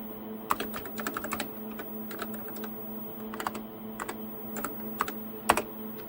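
Keys clatter on a TRS-80 Model 16 computer keyboard in quick irregular bursts of close, crisp taps with short pauses between words.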